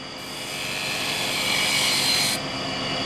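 A skew chisel cuts shallow coves into wood spinning on a lathe, giving a loud continuous rasping hiss that swells toward the middle and eases slightly near the end, close and steady with no voices.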